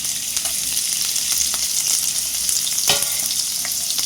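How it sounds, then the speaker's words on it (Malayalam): Sliced onions fry in oil in a pan for chicken biryani, giving a steady, close crackling sizzle with a few sharper spatter pops and a brief louder stir near the end. "സബോള ഇടുക. വറുത്ത് പോരണം."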